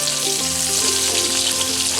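Garlic and ginger frying in a hot pan for beef noodle soup, a steady, close, loud sizzle that holds without pause and carries faint stirring underneath.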